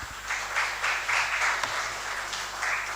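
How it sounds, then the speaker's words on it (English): Audience applause at a national policy conference in Uganda, steady clapping from a room of many people that holds at a fairly even level, swelling slightly in places for about three seconds. "I think we add him another hand clap."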